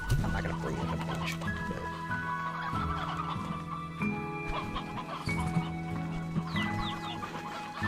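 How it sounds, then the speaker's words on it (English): Chickens cluck in a farm game world, several birds chattering at close range over a steady layer of background music and game ambience with bright chimes. "Chickens."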